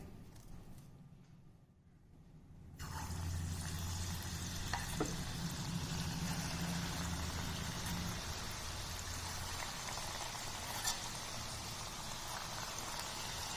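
Bonda (phulori) batter drops into hot oil and fries with a steady, loud sizzle. The frying starts after a quieter opening and continues with occasional pops and crackles.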